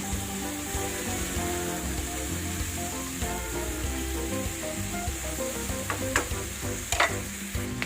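Pork kasim sizzles loudly and steadily in a hot pan for pork menudo, a continuous close fry with a few sharp spatula scrapes and clinks near the end, no talking.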